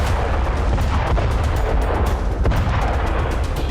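Bunker buster bombs exploding on buildings in Beirut, heavy rumbling booms with scattered sharp blasts in a continuous, loud, low-heavy roar throughout.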